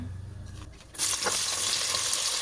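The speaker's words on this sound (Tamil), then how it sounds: "இப்போ இதை நல்லா வதக்கி விட்டுக்கலாம் நல்ல பொன்னிறமாக செவந்து வர்ற அளவுக்கு நல்லா வதக்கி விட்டுருவோம்" Three sliced onions hit hot oil in a pan for a beef and potato gravy. A sharp, loud sizzle starts abruptly after a quieter moment, then holds as a steady crackling fry with faint stirring, and no one talks.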